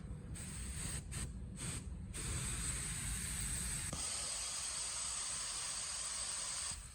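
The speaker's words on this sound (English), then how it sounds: "just applying the black base coat now" A spray gun hisses steadily while laying black base coat paint on a BMW X1, a close, loud airy spray with a few brief pauses early on before running continuously.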